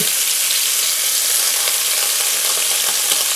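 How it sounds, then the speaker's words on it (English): Thin-cut ribeye sears in a very hot pan, a loud, steady sizzle that crackles and spits continuously for a few seconds, close up, with no voices over it. "what we're going to do next is sear our meat"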